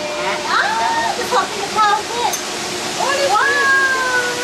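Rushing river water at a safari park's raging river habitat makes a steady hiss beneath someone speaking clearly over it.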